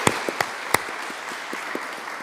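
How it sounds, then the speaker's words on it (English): An audience at a foreign-policy conference applauds, with a few sharp claps up front followed by sustained, moderately quiet clapping from a room full of people. "Please join me in applauding."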